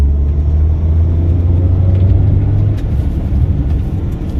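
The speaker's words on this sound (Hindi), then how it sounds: "जैसे मैं एक्सीलेटर को प्रेस करता हूँ" An Alto 800 car engine revving in second gear, a steady low rumbling drone that holds close and loud before dipping slightly and continuing.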